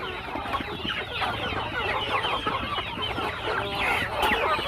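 A flock of native hens clucks excitedly ahead of a rice feeding, overlapping calls filling the air steadily at close range.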